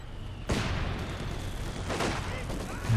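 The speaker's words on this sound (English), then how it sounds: "here comes some incendiary artillery on the Zis" Incendiary artillery fire in a World War II strategy game, a sudden loud impact at about half a second followed by a sustained rumbling roar with further crackling hits, under a continuous low battle din.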